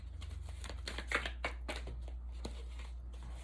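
Oracle cards being shuffled by hand, a run of soft papery riffles and taps at a steady pace, close and fairly quiet over a low constant hum.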